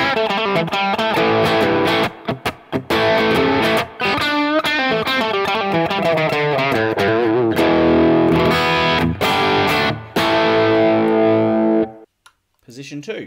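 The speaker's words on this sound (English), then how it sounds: "now it's time for some low gain crunch sort of rock tones" An Ibanez RGRT421 electric guitar plays low-gain crunch rock chords, loud and close, in strummed bursts with short pauses, ending with a final chord that cuts off.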